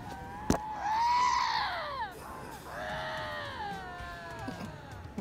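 Two Canada lynxes screaming at each other in a dispute, long wavering, rising and falling yowls overlapping, close and fairly loud with no talk.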